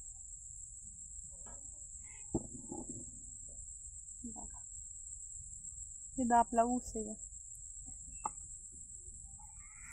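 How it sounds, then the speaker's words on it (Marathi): Chickens grazing outdoors on a farm in the evening give a few soft clucks and short calls at moderate distance, with steady cricket chirring throughout and someone speaking briefly. "आता बघा कोंबड्या चरते"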